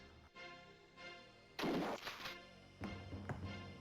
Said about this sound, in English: So I only got one bullet to kill the lone miner here.